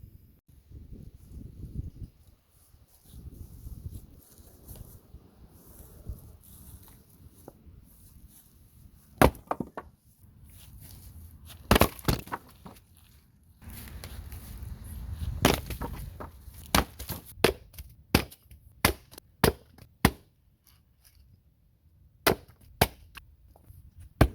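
Sharp, loud axe strikes biting into wood, irregularly spaced with pauses between blows, some ringing cracks, over a low rumbling background.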